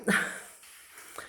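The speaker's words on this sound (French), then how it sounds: "Je suis désolée, là c'est le chien." A dog gives a short sharp bark followed by faint whimpering, heard indoors at a moderate distance with no talking over it.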